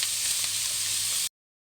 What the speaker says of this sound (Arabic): هنقلب شويه كده